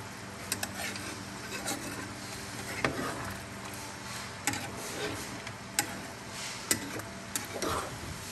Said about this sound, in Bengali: মাংস একদম রেডি, একদম রেডি। একটু হাতা দিয়ে নাড়বো।